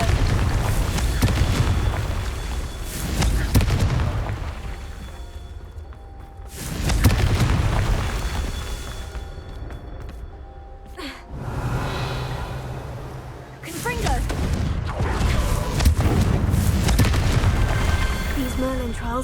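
The Confringo spell exploding in the wizarding game Hogwarts Legacy: repeated heavy fiery booms with rumbling tails, loud and close, alternating with quieter magical ambience, with a voice speaking between blasts.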